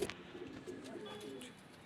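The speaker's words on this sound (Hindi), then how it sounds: "ये है कबूतर" Pet pigeons at a home loft coo softly and repeatedly, low murmuring calls close by with faint background noise and no talk.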